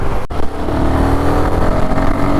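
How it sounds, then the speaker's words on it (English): A Royal Enfield Guerilla 450 motorcycle's single-cylinder Sherpa engine pulls steadily after a downshift, a continuous loud close-up drone with a brief dropout near the start and no talking. "One gear down and the bike pulls."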